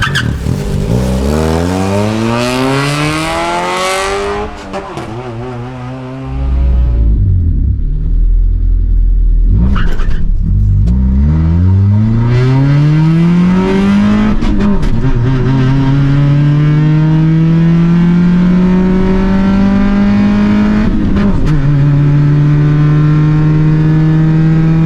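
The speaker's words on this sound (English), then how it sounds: "Yeah, let's see what it'll run down the drag strip" A turbocharged Honda Del Sol launches down a drag strip, its engine revving loud and close through repeated rising gear pulls with short breaks at each shift, then holding a strong, steady drone to the end.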